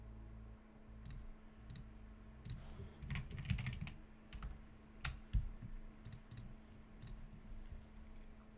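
Quiet computer clicks while choosing moves in a Pokémon video game, scattered single taps and quick clustered bursts over a faint steady background hum, with no talking.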